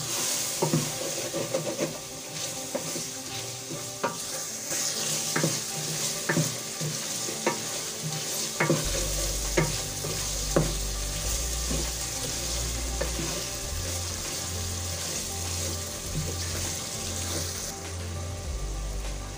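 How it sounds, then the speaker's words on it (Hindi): Masala fries with a steady, bright sizzle in a pan as it is stirred, the scraping strokes coming at a loose rhythm over continuous hiss, close and fairly loud. "और मसाले को अच्छी तरह भूनेंगे।"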